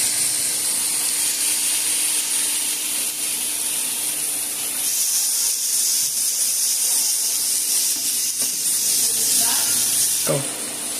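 Sliced onions sizzle in a pan with garlic for a ground meat dish, making a continuous bright hiss that holds steady throughout with occasional faint clinks.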